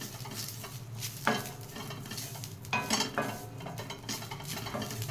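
Moringa leaves fry and get stirred in a pan over a low flame, with a soft steady sizzle and a few scraping clinks of a spatula against the metal. Nobody speaks.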